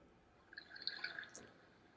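River water sound from a PICTEK night light with white noise machine, a faint, brief trickling and dripping burble with no talk.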